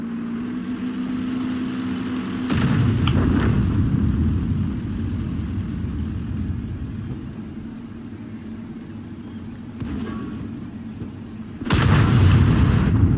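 A tank gun firing in the World of Tanks game: a steady engine rumble runs throughout, then a sharp, loud cannon blast bursts out near the end.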